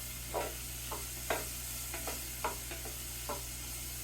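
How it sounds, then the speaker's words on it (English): Onion and garlic sizzle in a pan under a steady frying hiss, with a spoon or spatula scraping through them every half second or so as they are stirred constantly. "we're going to cook the onion and the garlic for about 2 minutes, stirring constantly."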